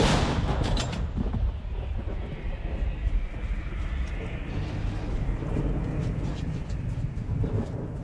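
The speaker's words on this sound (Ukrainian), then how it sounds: "А це буває така. Постріл!" A gunshot fires at the front near Kupiansk: a loud, sharp blast at the very start, then a long wash of rumbling outdoor noise.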